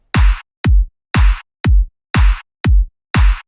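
Electronic drum pattern of a music production lesson, with a kick drum and a clap layered on beats 2 and 4; seven loud, evenly spaced hits alternating long booming strikes and shorter snappy ones, alone with no talk.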